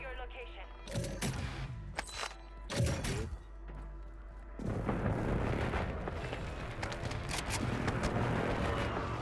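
Airstrike explosions in a Battlefield video game: several heavy booming blasts early on, then a dense, sustained rumble of battle noise that fills the rest of the scene.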